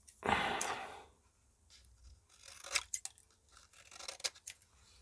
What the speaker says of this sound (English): I think we must go and cut this things off here